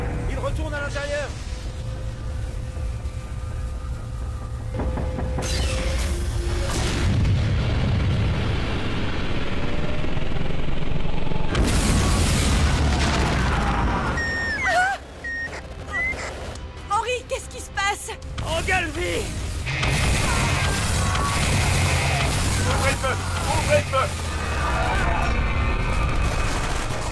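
A spaceship fires in an alien invasion film, with rapid bursts of gunfire-like blasts and booming explosions piling up in dense, loud waves, broken by a short lull before more crashes and impacts.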